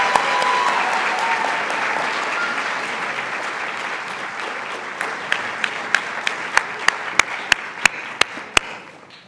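Broad audience applause at a college of nursing white coat ceremony, a steady wash of clapping that thins out, leaving a few loud, close, evenly spaced claps near the end.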